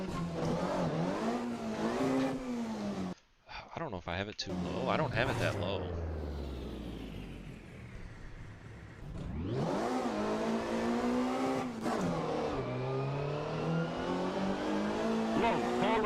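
Lada VFTS rally car engine in F&J Rally, loud and close, revving and shifting through rising and falling pitch sweeps with a brief cut-out, while someone talks over it.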